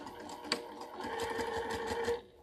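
A sewing machine stitching through eight layers of flannel for a rag quilt gives a brief, rapid mechanical whir with fast stitch pulses and a steady hum, close and clear, with no speech.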